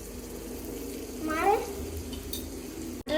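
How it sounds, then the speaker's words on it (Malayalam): Butter melting in a frying pan makes a soft, steady sizzle, with a scrape of a utensil midway and a clink near the end, close and fairly quiet. "അമ്മ ബട്ടർ എടുത്ത് പാനിലേക്ക് ഇട്ട് കൊടുക്കുവാണേ"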